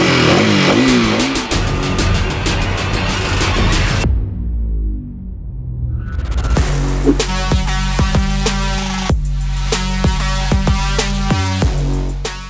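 A 2024 KTM 390 Duke with a liquid-cooled single-cylinder engine revs hard on the road, loud and close, climbing through the gears with sharp shifts, a brief lull, then repeated rising pulls.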